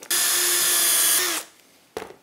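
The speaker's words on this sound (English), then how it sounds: "I can now drill here and put in a pin." A power drill bores a hole for a pin in a tracksaw cutting station workpiece, whining steadily for over a second before spinning down, then a brief knock.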